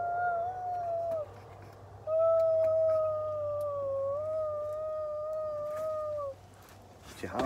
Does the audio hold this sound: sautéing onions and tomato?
no